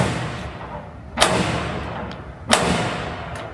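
A prison warder bangs on a cell door on Robben Island, South Africa: two loud, sharp knocks with a ringing tail, plus a fainter tap between them, in a reverberant space.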